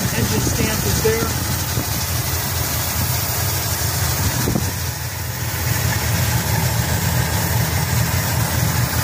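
A 1964 Buick Riviera's original engine with dual quad Rochester carburetors idles close by, a steady low rumbling throb with a brief dip midway, running smoothly throughout.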